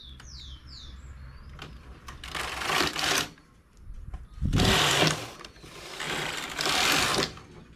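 Knitting machine knitting a ribbed adult tank top, the carriage sweeping across in three or four long rasping passes with clicks and short pauses between, close and fairly loud.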